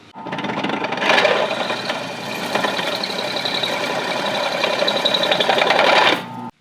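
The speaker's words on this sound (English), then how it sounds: "Now, time to countersink these holes and put it on the transmission." A drill countersinks holes in a metal transmission adapter plate, producing a steady, loud, high-pitched whirring grind that runs for about five seconds before spinning down.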